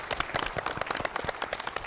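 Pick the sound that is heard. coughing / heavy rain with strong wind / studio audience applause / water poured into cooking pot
studio audience applause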